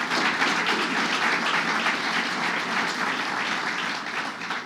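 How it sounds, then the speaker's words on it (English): Sustained applause from a large audience at a New York State awards ceremony for a SUNY challenge grant program, a dense even wash of many hands clapping that holds steady throughout and eases slightly at the end. "Give a big round of applause to Dr."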